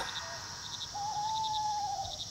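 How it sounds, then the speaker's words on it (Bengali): A great horned owl calls outside at night, a sustained low hoot standing out against a steady chorus of crickets and insects, moderately distant and alone without voices. "বাইরে কোথাও হুতম পেঁচা আবার ডাকল।"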